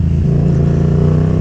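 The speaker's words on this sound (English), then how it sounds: "See, you just touch the gas a little and it just roars to life." A Yamaha FZ07 parallel-twin motorcycle engine revs up from a light throttle blip, producing a steady, loud, close mechanical roar that holds throughout with no voices.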